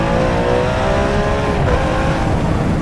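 A Ferrari 599 V12 accelerating hard and shifting into second gear, a loud, steady engine howl with a rising pitch, heard from inside the car with the window open, without speech.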